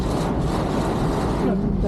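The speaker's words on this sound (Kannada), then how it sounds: "ಗಾಳಿನೂ ಬರ್ತಾ ಇದೆ ಹೊರಗಡೆಯಿಂದ" Wind buffets loudly against a car during heavy rain in a constant rushing roar, with a faint voice briefly audible beneath it.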